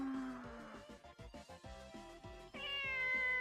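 A cat meows repeatedly in a game scene, a run of short, clipped mews followed by a longer, drawn-out tonal meow, heard up close over a quiet musical background with no talking.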